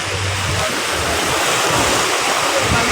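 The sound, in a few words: waves hitting a big boat, monsoon, Manila Bay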